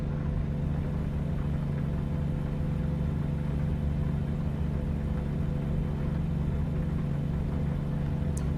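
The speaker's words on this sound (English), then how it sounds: "I'm driving a truck" An American truck's engine hums while driving, a steady low rumble that stays constant throughout with no voices.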